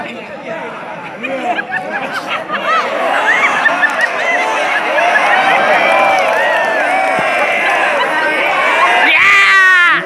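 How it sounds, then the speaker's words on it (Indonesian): A crowd at a farewell night event cheers and claps for the Indonesian women's taekwondo team, a loud, sustained mix of shouting, chatter and applause swelling across the whole stretch, with a sharp burst of whistling or cheering near the end. "Berikan tepuk tangan yang meriah kepada tim Taekwondo Putri Indonesia."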